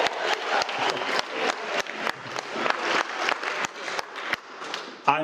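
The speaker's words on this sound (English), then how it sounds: "Round of applause again." Wedding guests applaud after the best man's speech, a steady burst of clapping from a room full of people, close and fairly loud for about five seconds before fading out.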